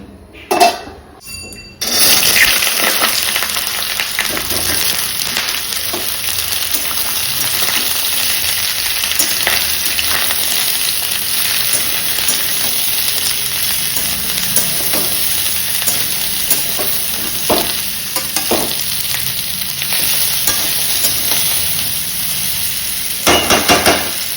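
After a brief clatter, oil sizzles and crackles steadily in a pan, loud and close, with occasional stirring scrapes and clinks.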